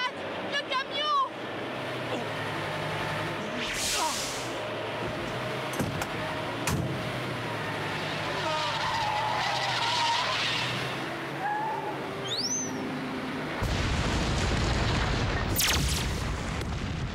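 In a Superman cartoon, a truck screeches into a skid amid roaring engine noise, with rumbling crashes, shouting voices and a loud burst of impact noise toward the end.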